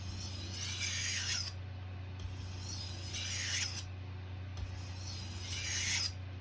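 Kitchen knife drawn along a sharpening stone in three long, smooth rasping strokes with short pauses between them, close and alone over a low steady hum.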